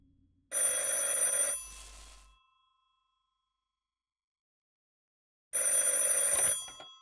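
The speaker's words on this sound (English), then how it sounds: "A phone is ringing." An old-style telephone bell ringing in a mystery video game, two loud metallic rings about five seconds apart with a short decaying tail and silence in between.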